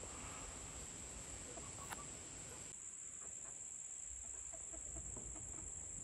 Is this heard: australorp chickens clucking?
yes